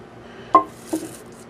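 Two brief metallic clanks a moment apart, a frying pan being set down and shifted on a surface, in an otherwise quiet room.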